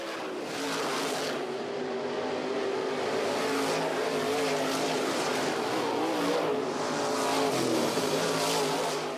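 A race car laps a circuit, a dense roar of engine and tyre noise running continuously and fairly loud, swelling slightly as the car passes.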